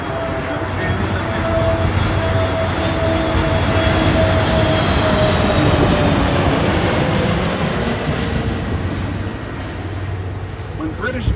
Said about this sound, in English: that's the biggest plane that lands here